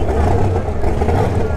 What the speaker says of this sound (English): here comes Tim Butler and his Dragster